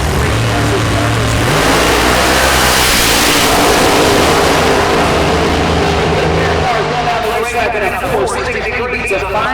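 Funny car drag racers roar down a drag strip at Central Illinois Dragway, a loud sustained engine blast with revving that fades toward the end, with an announcer talking over it.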